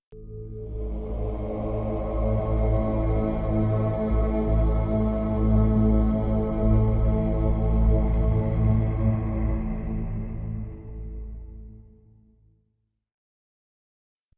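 A sustained low chanted tone of the root chakra mantra Lam, one long steady voiced note with rich harmonics held for about twelve seconds before fading out, sung alone with no other sound.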